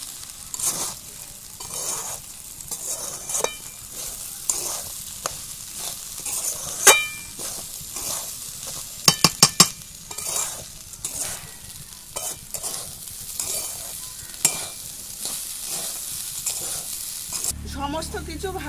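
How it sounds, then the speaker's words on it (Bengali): Turmeric, chili powder and salt fry in hot oil for masala rice, a steady close sizzle broken by repeated stirring scrapes and a few sharp utensil clacks on the pan, with no talking. "কষাতে কষানোর মধ্যে দিয়ে দেবো হলুদ, লঙ্কার গুঁড়ো আর লবণ"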